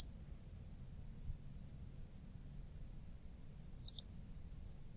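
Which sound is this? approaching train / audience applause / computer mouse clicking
computer mouse clicking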